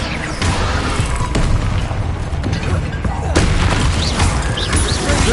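Confringo blasting spell going off in a Harry Potter video game, a dense rumbling boom with crackling bursts, loud and continuous over game noise, with sharp transients near the start and middle.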